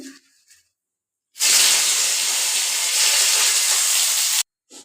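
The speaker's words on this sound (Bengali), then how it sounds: "তেল গরম হয়ে গেছে এখন আমি শুকনা লঙ্কাগুলো আগে ভাজ্যা লুমো" Dried red chillies dropped into hot oil, a sudden loud sizzling hiss that holds steady for about three seconds, then cuts off abruptly.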